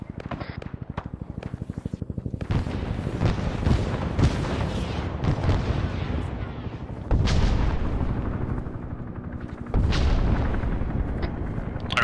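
Big bombs exploding in the video game Arma 3 during a Vietnam-era military simulation, several heavy booms rolling in among rapid gunfire, loud and rumbling with long tails, with a voice occasionally heard under the blasts.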